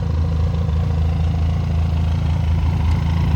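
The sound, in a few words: Benelli motorcycle engine idling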